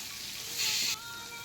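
Onions, tomatoes, ginger and garlic sauté over a medium flame, giving off a steady broadband sizzle that swells briefly midway before settling back to a soft, even hiss.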